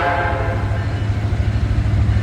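A Norfolk Southern train rolls past close by on the nearest track, diverging as it picks up speed, with a steady loud rumble of wheels and cars throughout and no talk.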